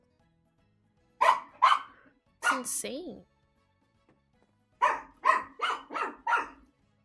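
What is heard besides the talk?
dog barking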